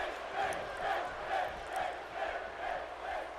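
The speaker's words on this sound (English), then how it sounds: "The crowd getting kind of vocal." Crowd cheering in a wrestling arena in WWE 2K18, a loud sustained roar of many voices swelling and falling in rhythmic chant-like waves.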